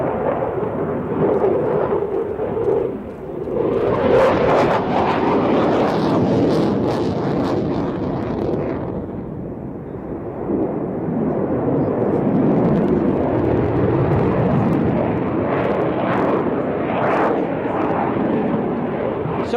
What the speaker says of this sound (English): the Royal Netherlands Air Force F-16 solo display, and what a beautiful painted aircraft it is too